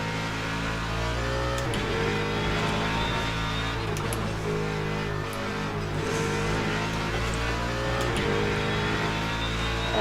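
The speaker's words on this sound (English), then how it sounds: "Here come the hypercars." Hypercars race past at Sebring in a World Endurance Championship event, loud steady engine drone with several pitch sweeps as cars pass close in succession, one after another for the whole stretch.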